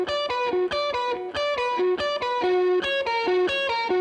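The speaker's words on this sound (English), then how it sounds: "The solo guitar in the last part of the solo sounds like this." Distorted electric guitar with effects plays the closing section of a solo, a fast run of clear, sustained melodic notes in an even rhythm, loud and close with no talk.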